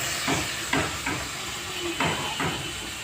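Water splashed into a hot pan of sautéing kharkol stalks, giving a steady steam hiss with several short sizzling bursts at close range, no voices.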